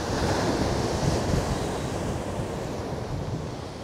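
Sea waves roll and wash steadily onto Chesil Beach, a loud, continuous surf roar with wind buffeting the microphone throughout and no voices.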